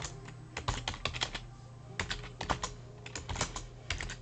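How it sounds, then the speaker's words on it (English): Rapid, uneven clacking of computer keys in quick bursts with short pauses, close and fairly loud, no voices. "You can hear that when I'm slamming the keyboard here while I'm typing."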